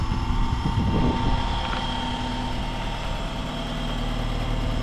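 A car engine idles steadily after a radiator replacement, a close, constant low rumble with a brief rattle early on and no voices.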